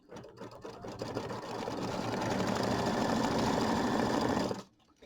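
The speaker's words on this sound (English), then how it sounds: "let's do a little decorative stitch" A sewing machine runs steadily through a decorative stitch on a mini quilt, a fast whirring, buzzing rattle that builds and holds for several seconds before stopping abruptly, close and without talk.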